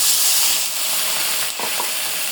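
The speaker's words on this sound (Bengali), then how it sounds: "এখন আমি ঝোলের পানি দিয়ে দেব।" Water poured into a pan of frying river fish for the curry, a loud hissing rush of steam and sizzle that fades slightly, with a couple of faint clinks near the end.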